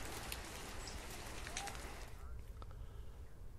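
Rain falls on a surface in Tehri, Uttarakhand, amid a winter spell of rain and snow, a faint, dense, steady patter that thins slightly toward the end, with no other clear sounds.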